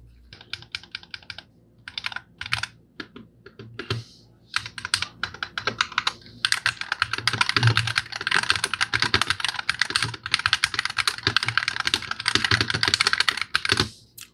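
Rapid clicking of keys on a magnetic-switch gaming keyboard, sparse at first then a dense, continuous flurry of typing, close and crisp.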